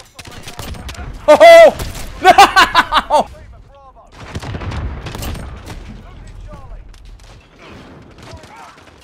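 Rapid bursts of FAMAS rifle fire in Call of Duty: Modern Warfare crackle in the foreground, mixed with game effects, while a player shouts excitedly over the shots.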